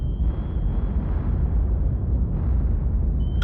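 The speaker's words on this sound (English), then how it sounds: "I'm being depth charged." Deep rumbling underwater blasts from depth charges in the submarine game Cold Waters, a continuous heavy low boom filling the whole stretch with no talk.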